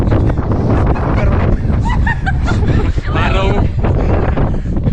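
Strong gusting May wind buffeting the microphone on Ratangad fort in the Sahyadri hills, a loud continuous roar with a person talking over it.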